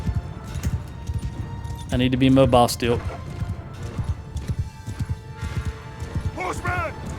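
Horse hooves clip-clop in a medieval battle in the video game Mount & Blade II Bannerlord, a rapid, steady patter throughout, with brief whinnies cutting in near the middle and end, and someone talking over the game sounds.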